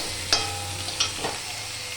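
Cooked rice going into a pan and frying, a steady soft sizzle with a few sharp scrapes and clinks of a spatula against the pan, close and alone without talk.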